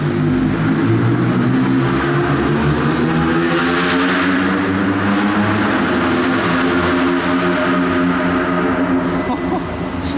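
A Monte-Carlo Rally 2026 car on a town super-special stage makes a loud, continuous engine roar close by for the full ten seconds, rising as it passes, with spectators talking over it.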